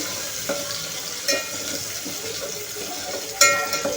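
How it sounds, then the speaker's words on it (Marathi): Crushed garlic and green chillies sauté in a pan for a spring onion bhaji, giving a continuous soft sizzle with a few sharp clinks of utensils against the pan. "मेची आणि लसूण जे आपण ठेचून घेतलेलं आहे ते छानपैकी टाकून परतून घेणार आहोत"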